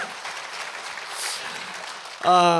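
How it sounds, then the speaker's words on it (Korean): A church congregation at an Easter dawn prayer service claps in a moderate, even stretch before a voice breaks in at the end. "박수를 더 크게 쳐주시고 3번만 더 크게 해주시면 제가 힘이 되겠습니다"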